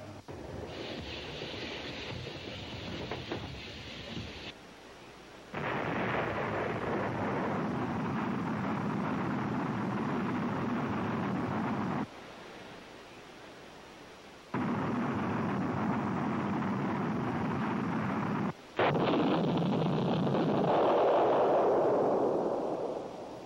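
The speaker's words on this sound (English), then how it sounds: "A two-stage solid fuel booster then powers the nuclear-tipped warhead through the air" A SUBROC missile's two-stage solid fuel booster roars in long, loud, sustained blasts of rushing noise, broken by brief drops in level and a final surge.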